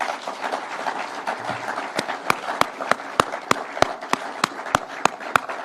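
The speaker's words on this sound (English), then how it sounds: "Can we clap for these people?" A crowd at a Kenyan political gathering applauds electoral commissioners: a dense wash of clapping and crowd noise, with sharp, loud individual claps ringing out in a steady rhythm during the second half.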